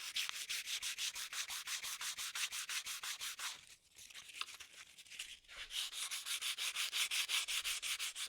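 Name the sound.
sanding super glue finish on ebonized oak knife handle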